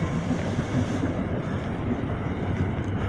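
A train rumbles past nearby, a dense, continuous roar of rail noise with steady intensity and no voices.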